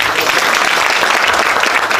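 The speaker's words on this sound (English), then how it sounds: "Let us clap for our ambassador." Audience applause at a university public lecture, dense sustained clapping from a large crowd, loud and even throughout, with faint voices mixed in.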